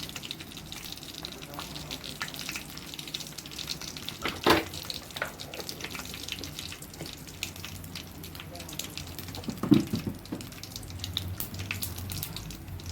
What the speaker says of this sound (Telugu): ఇప్పుడైతే ఆయిల్ కాగింది. ఆవాలు కొంచెం అంటే కొంచెం జీలకర్ర